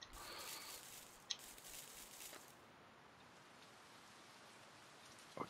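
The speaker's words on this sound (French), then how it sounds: "il commence à pleuvoir un peu" Light rain begins falling in the video game Paths & Danger, a soft, steady hiss of patter with a couple of faint sharp ticks, fairly quiet and with no talking.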